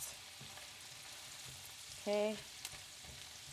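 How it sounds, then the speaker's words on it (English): Sliced yellow onion frying in a pan while being stirred, a steady soft sizzle throughout with a brief louder scrape midway; one short spoken word. "just add that in and kind of break it up and start stirring it around to cook"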